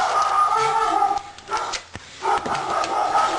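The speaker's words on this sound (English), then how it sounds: "Sorry about the dogs." Dogs bark and yip somewhere in a house, several short sharp calls scattered over a few seconds at moderate distance, with a brief lull in the middle.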